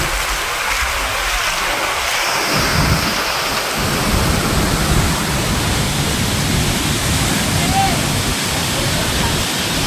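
Loud, continuous roar of heavily rushing water at Savatkada waterfall, a tall Konkan waterfall near Rajapur, swollen with high flow, a dense wall of noise close by, steady throughout.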